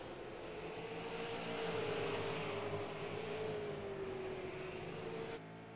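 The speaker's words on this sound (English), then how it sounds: "I think these guys are actually downshifting, which is really interesting to me." A race car engine at the Irwindale Event Center short track holds a loud, steady drone close by, with a pitch that slowly falls and then dips sharply near the end as it shifts down.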